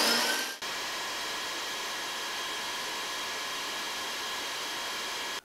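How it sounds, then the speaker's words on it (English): Dayton wall-mount industrial vacuum with an internal arcing fault, running with a loud, steady whooshing hiss after a brief higher whine, then cutting off abruptly at the end. "So I found this Dayton wall mount vacuum at one of the scrap yards I go to"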